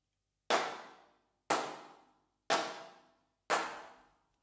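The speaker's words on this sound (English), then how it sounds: "So that Hand Clap Studio sounds like this." Four evenly spaced hand claps from the Hand Clap Studio plugin, one per second, each a sharp crisp snap trailing into a short reverb tail, heard alone against silence.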